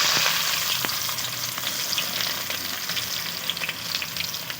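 Three medium onions hissing in spiced oil for a light chicken curry, a loud continuous close-up sizzle with a few faint crackles and utensil taps.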